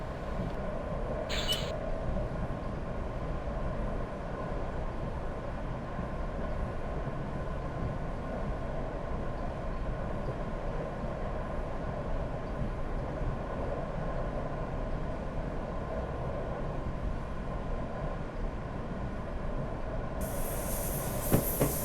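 A diesel train in Train Simulator 2015 climbs a 0.7% grade on the USA route from Irvine to Oceanside, a steady low rumble of engine and wheels on rail throughout, with a brief high squeal early and a hiss near the end.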